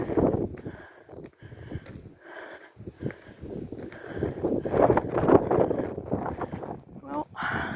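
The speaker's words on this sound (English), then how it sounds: "Probably won't hear me anymore because of the wind." Strong wind gusting outdoors at night on a hilltop during a wildfire, blowing steadily and loudly into the microphone with rustling, while someone speaks over it.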